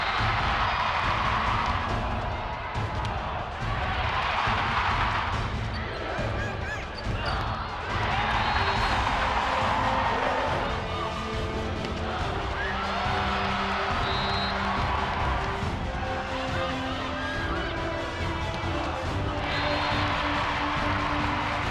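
A large crowd at a Gopher volleyball match in Williams Arena roars and cheers in repeated swelling waves, with a voice talking over the steady crowd noise throughout.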